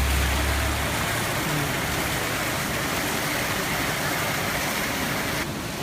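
Steady broadband rush of a waterfall flowing beside a public bath in Nagano, Japan, continuous and close, with a low rumble beneath it and no clear talk.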